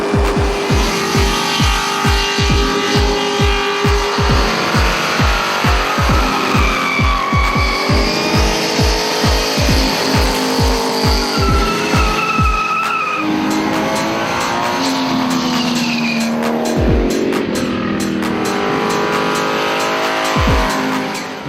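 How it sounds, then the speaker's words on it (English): Cars, including Japanese imports, perform rolling burnouts at a Power Cruise event: loud, sustained tire squealing and skidding over revving engines, with a steady pulsing thump through the first half, no talk. "The whole idea is to perform a rolling burnout for the longest distance possible without"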